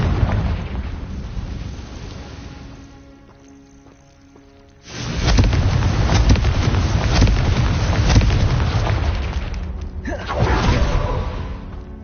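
The Confringo fire spell in Hogwarts Legacy lands with a loud, booming explosion that erupts midway and roars on, a second burst flaring near the end, over game ambience and music.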